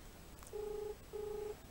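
Two steady telephone dial tones, each lasting about half a second with a short gap between them, are heard clearly and alone over faint background hiss.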